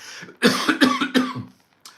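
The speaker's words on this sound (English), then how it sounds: "I've got a bit of a cough" A person coughs three or four times in a quick, harsh burst, close up, followed by a brief pause and the start of another sound.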